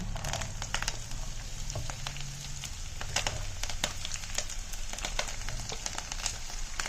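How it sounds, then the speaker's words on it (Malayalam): Onion and small coconut pieces fry together in a pan for a jackfruit seed stir-fry, giving a continuous, fairly quiet crackle and patter with scattered sharp pops. "അപ്പൊ ഇനി നമുക്ക് ഇതിനകത്ത് ആവശ്യത്തിനുള്ള സവാള ഇട്ട് കൊടുക്കാം."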